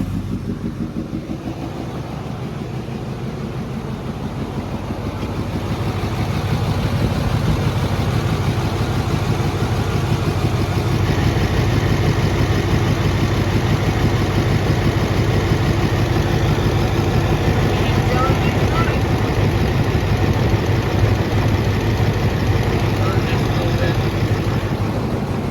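A car engine idles with its blow-off valve line disconnected, a steady mid-pitched rumble with hissing air that grows louder after a few seconds and holds constant, with a high whine entering partway.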